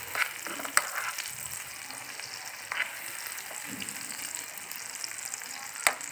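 Tomatoes with salt and red chili powder frying and being stirred in a pan for street-style veg Maggi, a steady close sizzle with occasional scrapes and clinks of the spoon.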